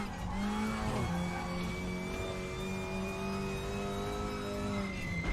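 A race car engine in the RaceRoom video game drones loudly and steadily, its pitch rising and shifting slightly under acceleration with a faint tire squeal, and no voices.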